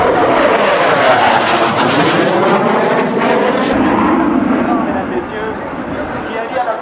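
A loud F/A-18 fighter jet roars close by, its broad rushing noise sweeping and shifting in pitch as it passes, then slowly fading.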